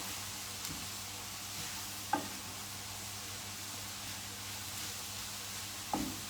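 Herbs cook down in a pan of mushrooms for a rosemary and sage nut loaf, a soft steady sizzle that stays faint, with a couple of light utensil knocks.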